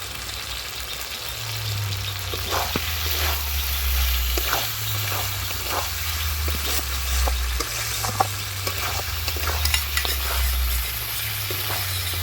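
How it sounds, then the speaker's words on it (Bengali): Onions and capsicum frying in a pan for fried rice, with a continuous soft sizzle and scattered scraping strokes of a spatula over a low rhythmic rumble, close and steady, no speech. "দুলালি তুমি নাড়তে থাকো"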